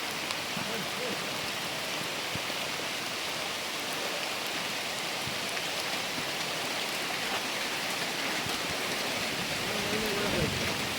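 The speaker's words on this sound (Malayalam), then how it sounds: "മഴയത്ത് ഞാൻ നനഞ്ഞാണ് നനഞ്ഞു പോകുന്നുണ്ട്" Steady rain hisses continuously on the Vellarada Kurishumala pilgrimage route, a dense wash of drops with no break, fairly loud and close throughout.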